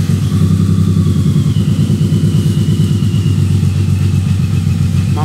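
A Suzuki Intruder VZR 1800 motorcycle idling in a workshop, its engine giving a loud, steady low rumble with an even pulsing beat close to the listener, no talk over it.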